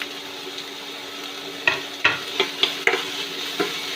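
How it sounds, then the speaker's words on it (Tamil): Onions sautéing lightly in a pan with ginger-garlic for potato bonda filling, a steady soft sizzle broken by several sharp scraping stirs of the spoon, close up with no talking. "வெங்காயம் ரொம்ப வதங்கலாம் தேவையில்லை, லைட்டாக வதங்கினா போதும்."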